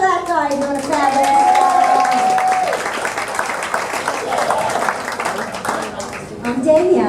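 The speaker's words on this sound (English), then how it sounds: "Hey, clap for that guy doing a fabulous" Comedy club audience clapping in a continuous, fairly loud wash while a performer speaks over it.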